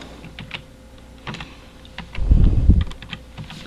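Computer keyboard typing: scattered key clicks with a brief denser burst of thumping near the middle, close and fairly clear, no voices.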